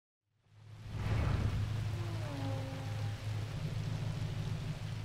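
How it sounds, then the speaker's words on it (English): Steady rain in the video game Forza Horizon 2 pours down with a constant hiss and low rumble, faint distant tones drifting through, continuing without pause. "And I'll wait till it stops raining."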